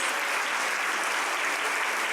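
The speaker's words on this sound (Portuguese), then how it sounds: "Aplaude a Deus, aplaude" Church congregation at a communion service claps together, a dense continuous wash of applause with no break across the short stretch.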